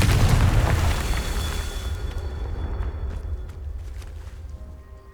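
A Confringo spell explodes in the video game Hogwarts Legacy, opening with a loud, deep booming blast that rumbles and crackles as it slowly fades over several seconds.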